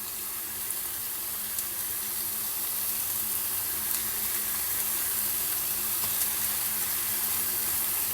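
Chicken browns in a pot for Korean dakgomtang, giving a steady close sizzle and crackle of frying with light hissing throughout and no talk.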